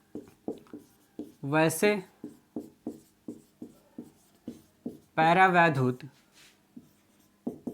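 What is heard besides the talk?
writing on a board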